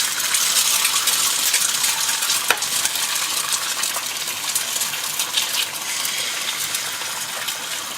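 Eggs frying in a pan preheated over medium heat, giving a steady, loud, continuous sizzle and crackle with small pops and one sharp tick partway through, with no talking.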